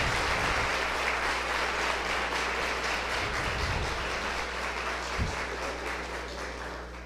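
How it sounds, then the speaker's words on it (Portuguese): Sustained applause from an audience at a municipal public health fund hearing in Ribeirão Preto, steady clapping throughout that fades slightly toward the end with no talk over it. "Eu peço uma salva de palmas"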